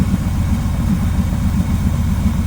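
A 1979 Pontiac Trans Am V8, a yard find being revived, idles steadily while warming up, a deep, even low rumble close by with no revving and no talk.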